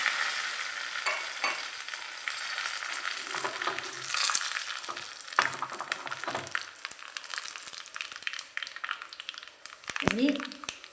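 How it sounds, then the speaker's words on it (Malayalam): Dried chillies and curry leaves dropped into hot oil with popping mustard seeds in a ladle, giving a continuous close sizzle with crackles and stirring scrapes, and a voice talks over it. "കടുക് പൊട്ടുമ്പോൾ അതിൽ മുളകും കറിവേപ്പിലയും ചേർക്കുന്നുണ്ട്."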